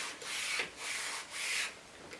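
A straight razor drawn along a leather strop in about three long, steady swishing strokes with brief pauses between them, close and fairly quiet, with no voices.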